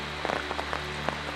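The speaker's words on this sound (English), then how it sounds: "we got caught in a rain" Rain falls on an evening walk along a deserted pathway, scattered drops pattering and tapping irregularly, likely on an umbrella, over a steady low hum.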